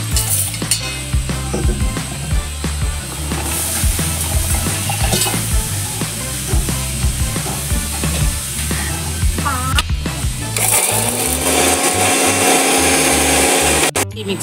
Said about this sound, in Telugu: వీటన్నిటిని మనం మిక్సీ పట్టుకుందాం.